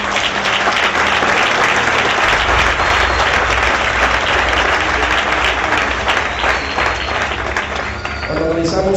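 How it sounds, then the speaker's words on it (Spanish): A church congregation claps and cheers loudly in praise during a sermon, dense continuous applause filling the room, with a voice faintly rising near the end. "aplaudan la gloria de Dios"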